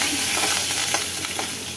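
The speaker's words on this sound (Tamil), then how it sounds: "காஞ்ச மிளகாய் கிள்ளி போட்டுக்கலாம். கொஞ்சோண்டு கருவேப்பிலை போட்டுக்கலாம். லைட்டாக வதக்கிக்கலாம்." Steady oily sizzling of dried chillies and curry leaves frying in a hot pan, continuous and close, with faint crackles and light stirring scrapes.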